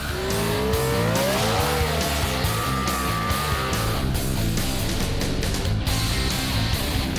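A high-performance custom hearse, billed as the world's fastest, accelerates hard from a standstill, its engine roaring loud and close as the pitch climbs through gear changes, with tire squeal over a sustained rumble.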